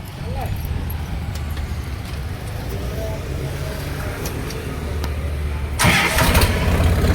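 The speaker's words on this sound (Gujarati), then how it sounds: "કર્યું ટ્રેક્ટર ચાલુ" A tractor engine starts up near the end, a sudden louder broadband burst over steady low rumble and outdoor background noise.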